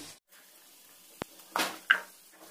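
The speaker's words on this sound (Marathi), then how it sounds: "आपल्या सर्व भाज्या मी आता कढईतून या बाउलमध्ये काढून घेतल्या।" Cooked vegetables scooped from a kadhai into a bowl for soybean veg biryani: three short scrapes and a metal clink in quick succession, close and fairly quiet against a still room.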